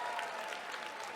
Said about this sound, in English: Round of applause for our players.